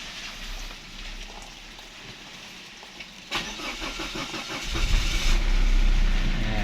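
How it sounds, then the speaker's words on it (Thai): A Mazda 2 SkyActiv engine with a fault that makes it stall shortly after starting cranks and catches, rumbling louder for a couple of seconds; no talking. "เดี๋ยวผมจะลองสตาร์ทดูนะครับ มันจะติด แป๊บเดียวแล้วก็มันก็จะดับเองครับ"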